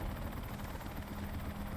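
A helicopter in the Dark Sector video game whirs faintly and steadily, its rotor chop pulsing evenly throughout with no talking.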